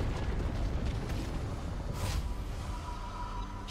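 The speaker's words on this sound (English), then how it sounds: "Team's turret has been destroyed." A turret falls in a League of Legends match, rendered as a deep rumbling blast with a bright burst of debris about halfway through, settling into a low mechanical hum.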